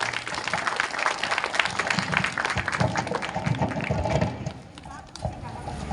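Villagers clap at a sarpanch and panchayat oath-taking ceremony, producing a loud, busy burst of applause that thins toward the end, with crowd murmur mixed in.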